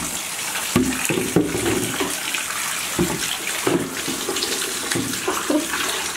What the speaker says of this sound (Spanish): Voy a coger agua caliente,